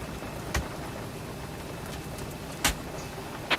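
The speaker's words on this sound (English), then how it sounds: "that's why we've got rain, because it was funny, nobody else had rain, but I had rain" Steady rain hisses over a flight simulator's virtual airliner on the ground at Melbourne, a broadband wash broken by three brief sharp clicks, with no talking.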